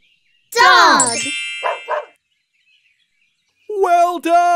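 A cartoon dog barks several times in a preschool learning program, a burst of yelps followed by a couple of shorter barks, and then a voice speaks.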